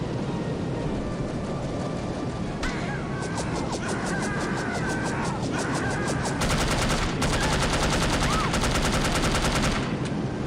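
Dense video-game gunfire from No One Lives Forever, rapid automatic bursts rattling almost without pause, loud and close, with brief gaps before heavier sustained volleys toward the end.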